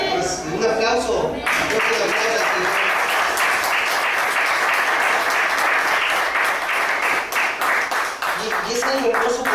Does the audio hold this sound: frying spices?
no